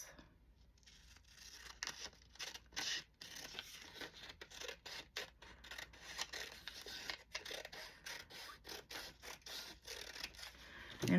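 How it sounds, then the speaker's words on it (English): Scissors snip through a paper strip cut from an envelope, close and fairly quiet, a series of short crisp cuts and rustles in an irregular rhythm with no talk. "We're gonna cut us a little strip and run it down it."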